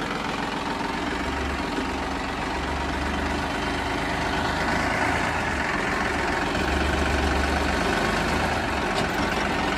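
A Massey 9500 tractor in very good condition idles steadily, its low diesel rumble and faint knocking continuous and fairly loud throughout, with no voices.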